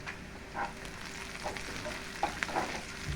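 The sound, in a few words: black cumin seeds, onion and garlic frying in oil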